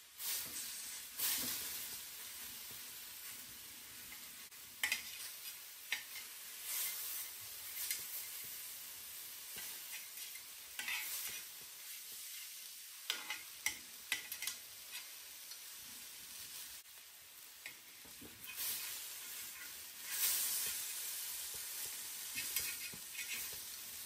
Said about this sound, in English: I am going to cook the jasi tikka on medium to low heat for 5 minutes on each side.